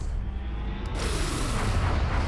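A particle cannon fires in XCOM: Long War, a sudden loud broadband blast about a second in that swells into a rumbling, sustained roar.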